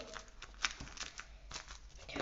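A homemade pop-it toy built from tape is pressed repeatedly, giving soft crinkly crackles and small pops in an irregular rhythm, close and fairly quiet.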